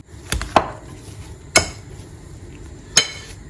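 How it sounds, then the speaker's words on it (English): Boiled potatoes mashed with a tapoli instead of a masher, three sharp, close knocks against a bowl spaced about a second apart, with quiet gaps between them. "If you don't have a masher, you can still use your tapoli."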